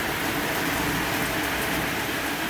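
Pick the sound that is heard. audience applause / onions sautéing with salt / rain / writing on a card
rain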